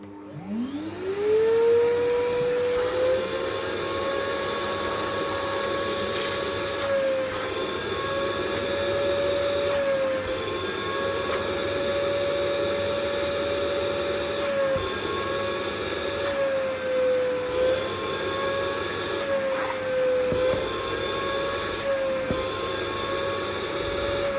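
A Kiwi KCC-4325 sofa and carpet washing machine spins up with a rising whine, then runs nearby in its second mode as a loud, steady motor and suction drone with a sustained tonal hum that dips slightly now and then.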